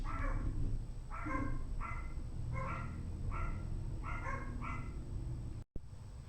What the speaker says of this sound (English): The dogs start barking with the trash guy out there.